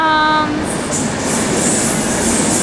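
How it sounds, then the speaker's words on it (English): A train rolling into Riomaggiore station in the Cinque Terre, loud and close, with a steady rumble, rail noise and a brief horn-like tone at the start. "Not our train. Not our train."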